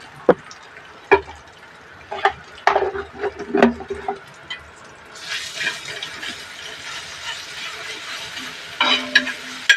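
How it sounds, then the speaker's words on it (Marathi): A masala of ground coconut, ginger, tomato and garlic hits hot tempering oil: a few sharp clatters and splashes, then a steady close sizzle with occasional stirring knocks. "वाटण घेतलेलं करून त्याची फोडणी देणार आता आपण"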